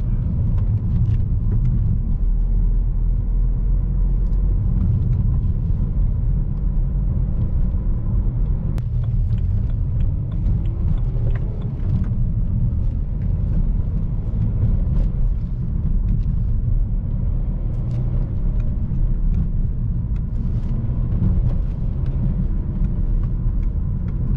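Steady in-car road and engine rumble from a manual BMW E92 320d with a 177 hp diesel, cruising on the autobahn; continuous low drone with tyre roar throughout and no talk.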